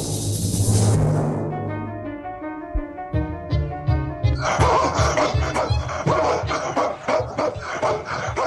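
A dog barks and yips repeatedly in a 1968 animated film, its quick bursts mixed with musical score and other soundtrack noise.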